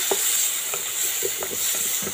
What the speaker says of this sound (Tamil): இதெல்லாம் சேர்த்து நல்லா வதக்கிக்கலாங்க